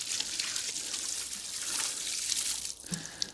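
Water pours out of a watering can onto a tree fern in a garden, a steady splashing trickle that tapers off near the end, close and alone.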